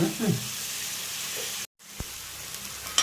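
Vegetables for a vegetarian curry sautéing in a pan, a steady close sizzle and fry hiss running through, broken by a short silent gap and a few light clinks of stirring.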